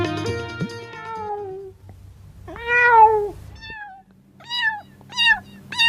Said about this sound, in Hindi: मियाऊ मियाऊ की आवाज होती है